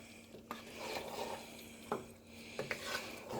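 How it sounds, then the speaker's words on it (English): A spoon stirs a three-meat lasagna sauce in a crockpot, giving soft swishing strokes broken by a few sharp scrapes and clinks against the pot, close by and with no voices. "Now we're going to stir this up."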